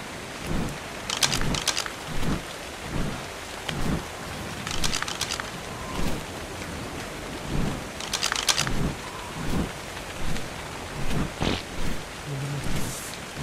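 Steady rain on a night scene in a dinosaur survival video game, with repeated soft low rumbles and occasional crackling bursts like distant thunder; no voices.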